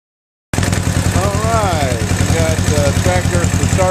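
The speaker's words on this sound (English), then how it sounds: "we're going to run this engine, which is a 12 horsepower little tractor" A 12-horsepower small tractor engine running on wood gas from a gasifier chugs loudly and steadily at idle close by, its rapid rhythmic beat carrying under a voice.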